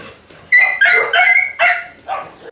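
A dog whines and yelps in several high, strained bursts, close and loud, ending abruptly, among Kangal dogs.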